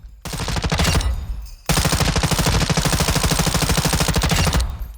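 Sustained automatic machine gun fire in Call of Duty Modern Warfare II, a loud burst of rapid shots, a short pause, then a longer continuous stream of rounds.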